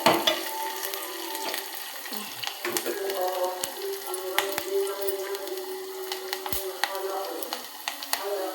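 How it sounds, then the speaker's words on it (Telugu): Tempering for gongura dal sizzles and crackles in hot oil, a steady fry with frequent sharp pops and spatters close by. "తాలింపు బాగా వేగితేనే బాగుంటుందండి రుచిగా గోంగూర పప్పులో"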